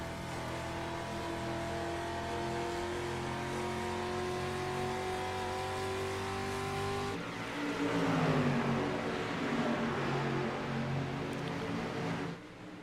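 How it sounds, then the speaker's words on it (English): A street stock race car engine whines steadily, rising in pitch, then another car roars in closer and louder before dropping off abruptly. "As you hear Jeff, he's barely in that throttle until he gets on the straightaway."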